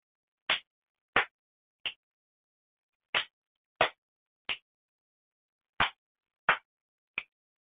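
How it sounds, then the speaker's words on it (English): Hands tap on a lap, then clap, then snap in a repeating three-beat pattern played three times, each hit crisp, close and isolated against silence. "So, you tap your lap."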